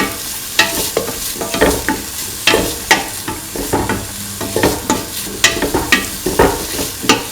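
A spoon stirs a tofu, potato and coconut milk stew in a hot pan, giving repeated scraping clatters over a steady sizzle, close and fairly loud with an irregular rhythm throughout.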